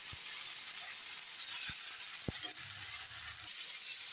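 Tomato paste frying with fried onions in a pan for chicken ghugni, a steady soft sizzle with a few sharp spatula taps and scrapes, close and quiet, without speech.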